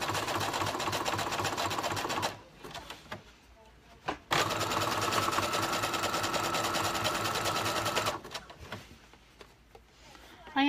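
A sewing machine stitches thick fabric and struggles to feed it through. It runs steadily for about two seconds, pauses, then buzzes in a longer run of about four seconds before stopping, loud and close.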